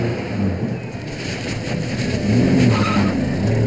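During a chase, taxi car tires skid under a roaring engine, with a rising squeal swelling near the end, loud and close, and no voices.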